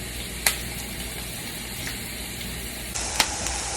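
Onions sizzle in shimmering hot oil in a pan over high heat, a steady bright hiss broken by two or three sharp clicks or spatters.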